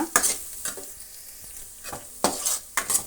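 Turmeric frying in hot oil in a pan for rice bath, a continuous close sizzle broken by several bursts of stirring and scraping.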